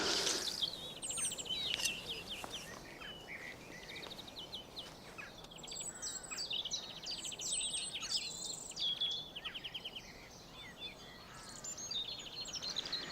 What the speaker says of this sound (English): Can you hear that? Birds singing.